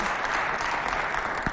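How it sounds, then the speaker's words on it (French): An audience at a school show on girls' education claps for the principal of a girls' high school, a brief, continuous burst of many hands with no talking over it. "Applaudissez pour Madame la proviseure du lycée féminin"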